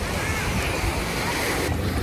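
Sea surf washes onto a beach at Lazarevskoye near Sochi in summer, a steady close rush of breaking water mixed with gusty wind buffeting the microphone, with no clear voices.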